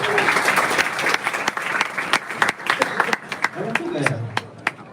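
Audience applause breaks out in a hall during a youth forum in Bandung, a dense crackle of many hands with sharp individual claps, thinning toward the end as voices and murmur rise underneath.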